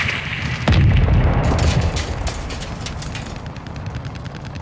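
Heavy missile explosions in the Call of Duty Modern Warfare 2 video game, a loud deep boom that bursts out early and then rolls into a long rumbling decay with scattered crackling, with no one talking.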